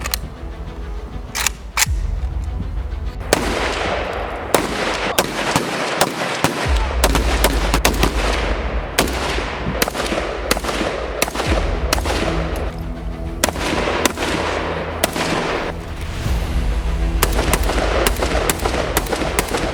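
Recruits' shooting practice on a firing range: rapid sharp gunshots crack one after another, some in quick bursts, close and loud over a constant low rumble.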